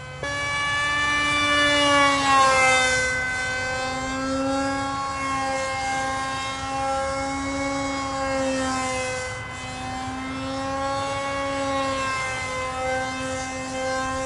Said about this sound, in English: Excellent roll speed.